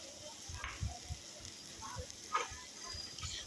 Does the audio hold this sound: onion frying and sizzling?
yes